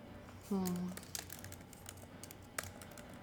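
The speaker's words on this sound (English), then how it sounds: "Let me type to Carissa." Typing on a computer keyboard at home, a few scattered key clicks and taps near the mic, with a brief vocal hum early on and quiet background.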